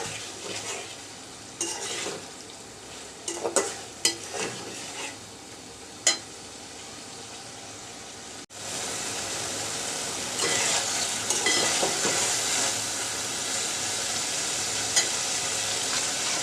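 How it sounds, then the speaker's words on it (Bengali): Tomatoes and whole green chillies sautéing in a pan, close sizzling with scattered utensil clinks and stirring scrapes; the frying grows louder and fuller in the second half after a brief break, no talking. "অর্ধেক পরিমাণ টমেটো কষানোর মধ্যে দিয়ে দিচ্ছি দিয়ে দিচ্ছি কাঁচামরিচ গোটা গোটা দিলাম"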